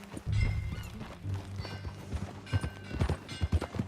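Horse hooves clip-clop in the video game Red Dead Redemption 2, a close run of thudding steps that grows quicker and punchier toward the end, over a low bed of ambient sound.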